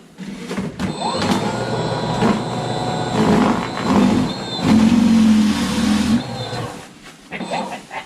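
Toro Power Shovel 60-volt cordless snowblower running on its low speed setting, a steady close electric whir with rising and falling surges as it throws snow for several seconds.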